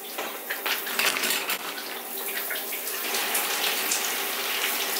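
A home shower runs in a steady, full hiss of spraying water, close and continuous, with no talking.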